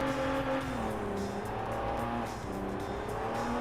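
An underpowered Spirax car with a 5-speed drifts in CarX Drift Racing, its engine droning steadily with a tire squeal running alongside throughout, loud and continuous with no talking.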